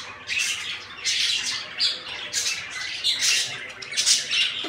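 Pet budgerigars kept at home squawk and chatter in a dense, continuous flock, harsh bursts overlapping one another close by with no talking.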